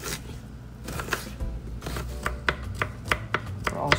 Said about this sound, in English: So I'm gonna kind of thinly cut the garlic